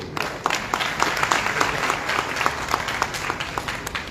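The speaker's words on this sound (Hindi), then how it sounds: "ताली बजाओ भाई इस व्यक्ति।" An audience claps together in a steady burst of applause, dense and fairly loud, lasting the whole stretch with a few sharper individual claps standing out.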